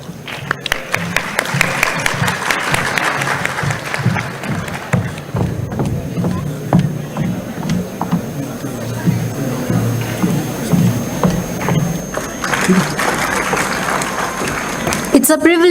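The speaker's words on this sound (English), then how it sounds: "A huge round of applause, please." Audience applause for a panelist at a pharmaceutical intellectual property conference: clapping swells early, drops beneath a speaking voice, then rises again near the end.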